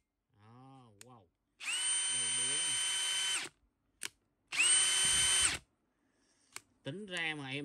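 A Bosch GSB18V-150C cordless drill runs in two loud, steady whirring bursts of about two seconds each, close up. Brief talk comes before, between and after the bursts.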